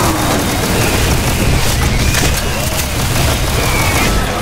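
Continuous, loud barrage of grenade explosions and booming blasts from the video game Doom Project Brutality, dense and overlapping with no pauses.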